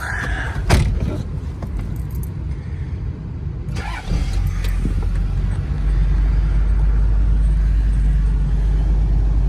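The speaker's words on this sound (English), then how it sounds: "I just let the truck warm up a little bit" A pickup truck engine cranks and turns over early in the morning, then settles into a steady low idle as it warms up, with a few clunks and rattles near the start.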